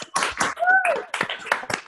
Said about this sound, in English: let's just do a little bit of clapping